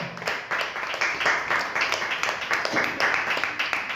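A church congregation applauds during a Spanish-language sermon, a dense, steady wash of many hands clapping at once, fairly loud and sustained without pause.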